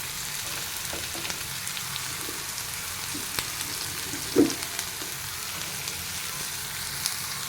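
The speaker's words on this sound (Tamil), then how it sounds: "அடுத்து கேரட் போட்டுடலாம்" Carrots dropped into a hot frying pan with beans already cooking, giving a steady soft sizzle throughout with a brief louder burst midway as the pieces hit the oil.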